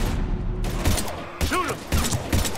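Gunfire in the sci-fi video game Mass Effect 3 during a fight with husks, a few sharp separate shots over low rumbling combat noise, with whooshing and whirring effects between the blasts.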